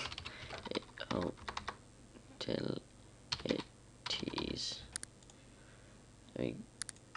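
Fingers tap a computer keyboard in short, quiet clusters of clicks separated by pauses, while someone talks softly between the bursts.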